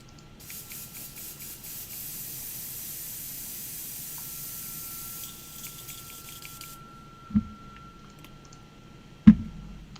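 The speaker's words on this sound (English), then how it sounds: "The wonderful world of airbrushing." Airbrush spraying paint onto an Anvil Industry EOD minigun operator miniature, a steady fine hiss lasting several seconds, then stopping, followed by two soft knocks near the end.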